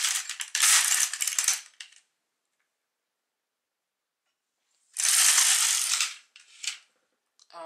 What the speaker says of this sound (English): We just continue knitting, and I'll knit 20 up to row